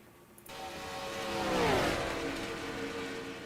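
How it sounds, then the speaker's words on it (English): A race car leaving the pits in an online racing sim, its engine whine rising and sweeping past up close, then easing off into a steady drone. "I heard Ed Finley's car come out of pits."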